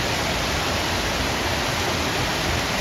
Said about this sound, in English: I just showed you the creek coming down from Sherwood Lake.